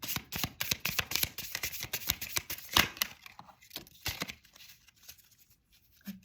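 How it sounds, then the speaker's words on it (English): A deck of cards riffled and shuffled in quick, crisp bursts of flapping and snapping, close up, thinning out toward the end. "let's shuffle the cards and see what comes out."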